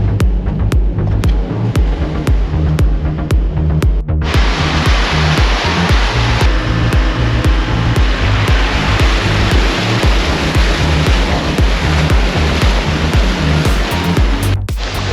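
Water rushes steadily over the Palm Creek crossing in Cape York, a loud, broadband, continuous roar with a faint rhythmic throb underneath and a few sharp clicks scattered through it.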